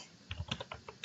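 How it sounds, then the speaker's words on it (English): Computer keyboard typing, a short run of about eight crisp keystrokes tapped in an uneven rhythm, close and fairly quiet with no voices. "I'm going to type in My Endnote"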